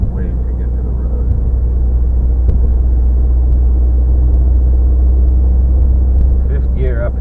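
Inside a 2015 Subaru WRX climbing a slippery hill in fifth gear at about 40, a heavy, steady low engine and road rumble fills the cabin, with a brief voice near the end.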